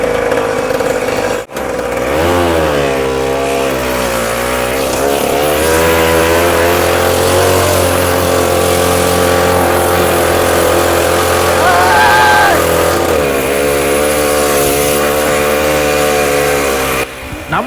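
The engine of a homemade Mahindra mini jeep labors as the vehicle drives through mud. A loud, close droning rumble rises and falls in pitch as it revs, sustained throughout.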